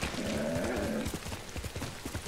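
Horse hooves clopping in Ghost of Tsushima, with a rising whinny early on, followed by steady hoof beats under game ambience.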